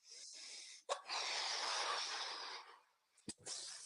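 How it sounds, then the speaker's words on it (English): Several people doing heavy breathwork exercise during mountain-athlete training: long, loud, forceful breaths with sharp snorting inhales between, close up and without talk. "We're having a breathing party."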